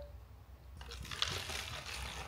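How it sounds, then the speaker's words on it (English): Water is poured into a bottle to top up a mineral mixture to 500 ml. After a brief quiet start, a soft, steady trickle and pour continues to the end, with no talk. "Now we're going to add 500 mils of water"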